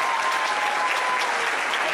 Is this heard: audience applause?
yes